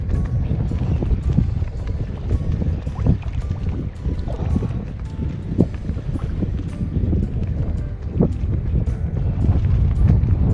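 Strong wind buffets the microphone on open water while a boat sits at anchor, a loud continuous rumbling roar with gusty surges and small knocks throughout.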